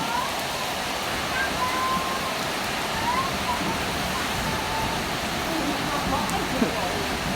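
Heavy rain pours down steadily in a continuous, dense hiss that stays loud and even throughout, with a few faint tones and murmurs underneath.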